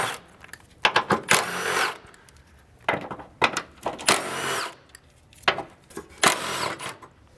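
A power tool or impact wrench runs in three separate loud, rattling bursts as four 13 mm bolts come off a brace on an Mk7 Volkswagen GTI during a turbo upgrade. Short pauses fall between the bursts, and nobody talks.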